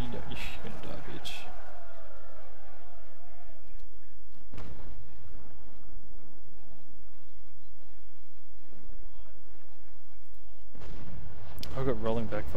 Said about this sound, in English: The big cannons.